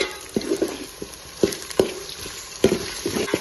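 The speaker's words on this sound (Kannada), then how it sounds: "ಇದು 1 ನಿಮಿಷ ಫ್ರೈ ಮಾಡ್ಕೊಂಡಿನ್ರಿ ನಾನು ಅಲ್ಲ ಬೆಳ್ಳುಳ್ಳಿ ಪೇಸ್ಟ್ ಹಾಕಿ" Homemade garlic paste frying in a pan with potatoes and peanuts for tomato bath, a steady soft sizzle broken by light scraping and stirring taps, close and fairly quiet.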